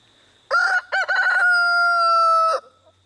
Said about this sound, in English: There he goes, big rooster.